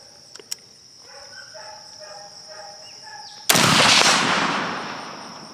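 One loud rifle shot is fired at a 300-yard target outdoors. It cracks sharply after a stretch of steady insect buzzing and a few small clicks, then rumbles and fades slowly.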